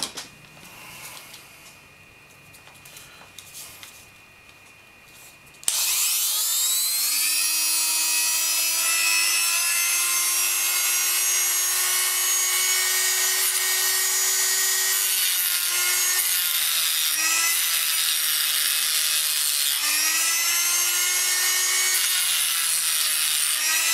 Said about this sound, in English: So I'm just going to actually grind that down slightly.